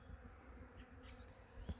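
A swarm of bees moving from a large walnut tree toward a smaller tree, heard as a faint, steady outdoor buzzing hum with no voices.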